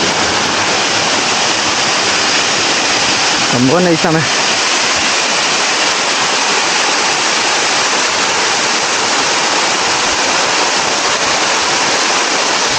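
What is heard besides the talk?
waterfall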